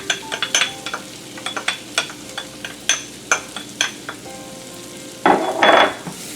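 Shallot sizzles in a pan while a utensil scrapes and taps in a quick, uneven series of strokes, close and crisp, ending in a louder, fuller burst of frying.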